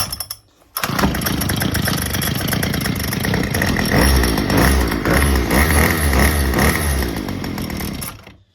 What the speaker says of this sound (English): And the last but not least, the Weed Eater. Cold head, cold everything.